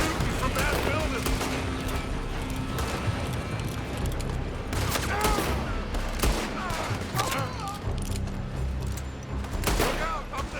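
Gunfire in Red Dead Redemption 2 from shooters inside a building: a continuous dense fusillade of shots and booms lasting throughout, loud and busy, mixed with game sounds and voices.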